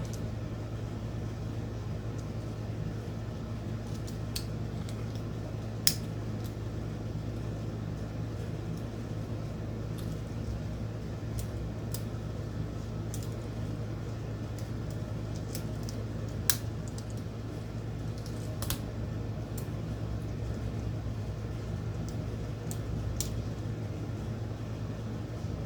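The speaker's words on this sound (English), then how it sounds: "Tend to pull the keys up from the left side, but it probably doesn't really matter that much." Keys are pried off an OP-1 synthesizer keyboard, giving scattered small clicks and ticks over a steady low hum, quiet and close throughout with no talking.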